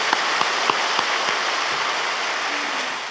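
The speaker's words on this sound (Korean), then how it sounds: "우리 하나님께 감사와 박수를 올려드립니다." A church congregation claps together in sustained, even applause during a worship service, a dense wash of hands with a few sharper claps standing out near the start.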